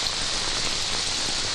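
Steady rain pours down in a hillside setting at Bangadi hill, a dense, continuous hiss of drops striking surfaces, close and even throughout with no voices.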